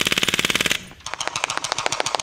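A BB gun fires semi-automatic shots into a guitar, first a fast evenly spaced string of sharp cracks, then after a brief pause a second, more irregular run of snappy shots, each hit close and loud.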